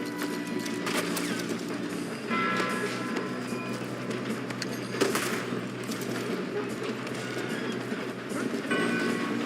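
A train in the Red Dead Redemption 2 video game rumbles and clatters steadily along the rails, with rhythmic clicks and metallic bursts over a continuous rolling din.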